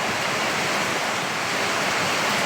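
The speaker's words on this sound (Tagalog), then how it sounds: "Lakas ulan. Sobrang lakas." Very heavy rain pours down outdoors near a mountain during a downpour, a loud, dense, unbroken hiss of water that holds steady throughout with no gaps or voices.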